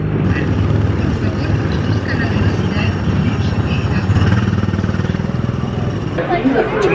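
A go-kart engine drones continuously on the Tomorrowland Speedway ride at Magic Kingdom, a loud, steady rumble with voices talking over it throughout.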